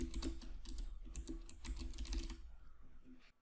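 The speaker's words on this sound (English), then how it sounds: "We can select the middle section and start typing." Quick, steady keystrokes on a computer keyboard, close and clear, tapping out a short title in a spreadsheet header, then trailing off near the end.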